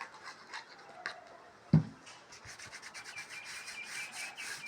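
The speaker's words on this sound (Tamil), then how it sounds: "லைட்டாக இப்படி தொடச்சிக்கிறேன்." Soft, light rubbing of a cloth over a handmade round box woven from river grass (korai), a faint steady scrubbing with one brief louder knock partway through.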